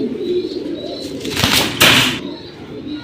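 Military silver pigeon close by, soft cooing with a sudden loud flutter of wings and a rustling burst partway through.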